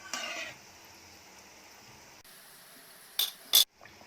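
Moong dal kachoris in oil on a low gas flame, flipped with a metal utensil: a faint steady sizzle of frying with a brief scrape at the start and two sharp metallic clinks near the end.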